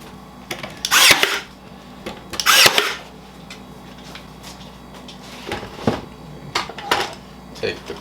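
Brad nails are driven into a wooden workbench in a few sharp, loud shots about a second and a half apart, followed by lighter clatter and knocks from the workshop.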